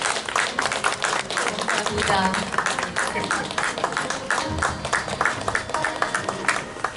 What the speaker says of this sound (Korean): 여러분 축하 박수 부탁드립니다